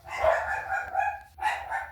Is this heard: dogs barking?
yes